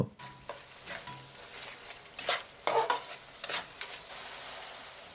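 Beef is stirred with salt, chili, turmeric, coriander and cumin powders in a pot, quiet scraping and clinks of a spoon against metal in short bursts over a faint sizzle.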